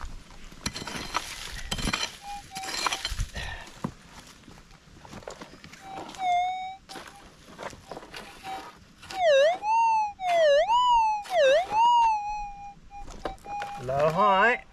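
A metal detector's warbling, rising and falling signal tone sounds loud and close as the ground over a buried target is scraped while prospecting for gold nuggets in Australia's Golden Triangle. It comes in several repeated swells, with speech and scraping heard earlier.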